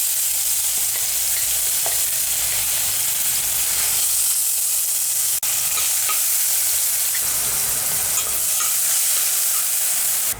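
Crushed dried red chilies and onions sizzling in hot oil after mustard seeds have popped, a loud steady hiss and crackle close to the pan, with occasional stirring and no voices.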